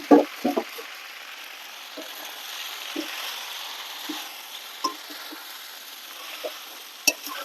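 Rice being stirred into frying chicken polao made with jeerakathi rice, giving a steady soft sizzle with a few sharp scrapes and knocks of a spoon against the pan, mostly near and moderate in level.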